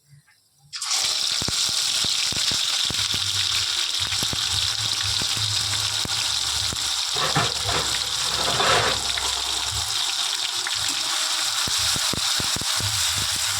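Ground onion paste dropped into hot oil in a pan for beef chaap: a sudden loud hissing sizzle bursts in and stays strong and steady, with faint utensil scrapes.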